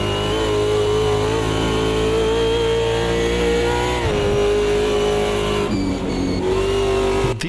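Super V8 race car engine in the Automobilista 2 racing game at Bathurst, a loud, sustained, steady engine note that holds high, dips briefly for gear changes and corners, then climbs again.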